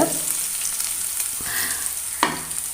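Ginger-garlic paste sautés in a pan for a potato and egg dish, a steady hissing sizzle with a couple of light scrapes of a spoon, close and unbroken, no voices.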